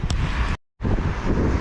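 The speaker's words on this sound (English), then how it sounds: "It's windy, it's cold, it's wet" Wind blowing hard on a cold, wet day, a loud broadband rush buffeting the microphone, briefly cut to silence midway before resuming just as strongly.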